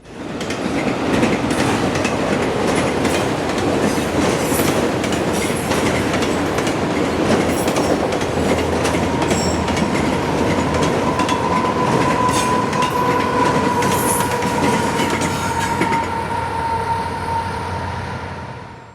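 A long CSX freight train carrying autoracks rumbles steadily past nearby, wheels clattering over rail joints, with a drawn-out metallic squeal rising partway through.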